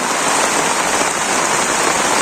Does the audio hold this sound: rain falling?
yes